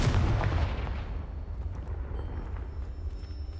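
A Confringo spell explosion blasting rubble in Hogwarts Legacy, a heavy deep boom at the start that fades into a long rumbling decay with faint debris.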